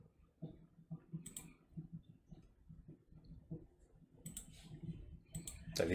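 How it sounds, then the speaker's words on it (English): Faint, irregular clicking like keyboard or mouse taps sits in a quiet room. The taps are soft and scattered, with a few sharper clicks toward the end. "So if you hear clicking in the background, I apologize."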